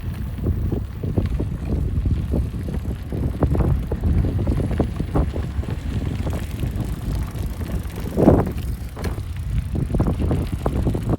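Electric bikes ridden along a lakeside, with steady wind buffeting the microphone and a continuous low rumble of tyres and motion, broken by a brief louder gust or bump partway through.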